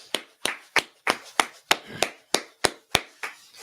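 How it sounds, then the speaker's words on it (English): Hands clap out a steady, even rhythm at a religious gathering, about a dozen sharp, close claps spaced roughly a third of a second apart, with no other sound between them. "All right, let's go ahead and clap it up."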